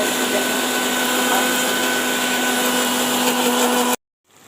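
A mixer grinder whirs steadily while grinding poppy seeds with water, a loud continuous buzzing drone with a steady hum that cuts off abruptly near the end.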